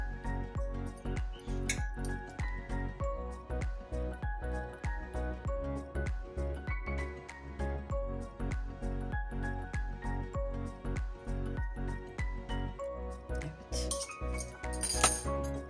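Metal forks clink repeatedly against each other while prying open slit eggplants for karnıyarık, a steady series of close, bright taps and scrapes with dishware clatter.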